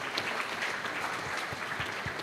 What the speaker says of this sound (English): Big round of applause for him to be here.